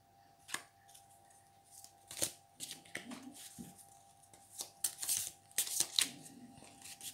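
Tarot cards shuffle and get drawn at close range, with crisp slaps, flicks and papery rustles in irregular bursts against a quiet room with a faint steady hum.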